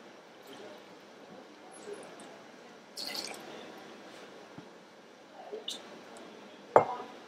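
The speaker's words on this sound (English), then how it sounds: "We're going to use 50 mils of the lovely Croft Pink Port." Croft Pink Port poured from the bottle into a cocktail glass or measure, a faint, quiet liquid trickle with a few soft drips and one brief clink near the end.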